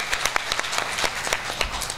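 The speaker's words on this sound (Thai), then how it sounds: "คุณวิภารัตน์ปั้นเปี่ยมรัตน์ครับขอเสียงปรบมือนะครับ" A seminar audience in Khon Kaen claps for a government speaker, a short burst of scattered, fairly close hand claps with uneven rhythm.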